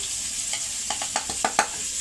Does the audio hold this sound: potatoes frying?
yes